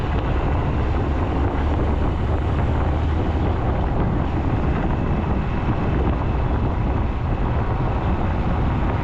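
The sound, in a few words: motorboat engine running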